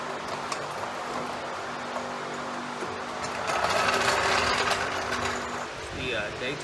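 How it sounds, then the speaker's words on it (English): Pressure washer cleaning the underside of a zero turn mower deck: a steady, loud hissing spray with a buzzing drone beneath it, growing harsher midway as the water hits the deck. "Let's just use a pressure washer."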